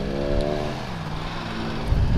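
A lowered car fitted with a massive exhaust growls loudly and close by, its engine note sliding down and then swelling again, heard over steady motorcycle and road rumble.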